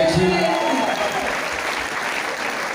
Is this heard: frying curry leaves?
no